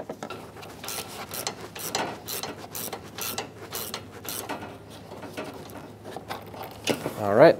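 A wrench tightens a line nut on the AC condenser of a 2007-2014 Chevrolet Silverado 2500 HD, making close, repeated metallic clicks and short rasps that continue steadily, ending in a louder clatter.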